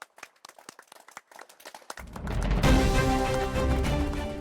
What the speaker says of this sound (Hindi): चलिए आप सब उसके लिए तालियां बजाइए